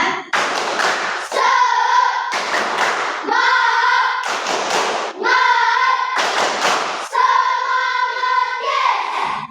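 A classroom of pupils performs the 'tepuk semangat' clapping routine, loud bursts of rhythmic group clapping alternating with children chanting together in unison, repeating in a steady pattern.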